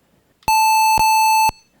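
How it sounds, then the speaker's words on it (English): A DOS PC speaker sounds off when a batch file runs, giving a loud, steady electronic beep held for about a second with a brief dip partway through, so it comes across as two close tones in a quiet room. "we're going to get the beep."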